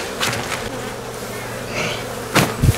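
Honeybees in a hive during autumn sugar-syrup feeding give a continuous low buzzing with small surges, including a louder burst near the end, and no voices.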